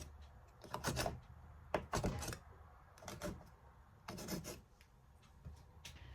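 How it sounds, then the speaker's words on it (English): A cutter slices through chin chin (akyemor) dough, giving quiet, irregular scraping and tapping strokes in short bursts with soft pauses between them. "I'm just gonna use this cutter to cut them"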